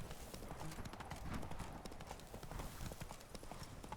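Rapid horse hoof clip-clops in the video game The Witcher 3, a soft, steady galloping patter that continues throughout at low volume.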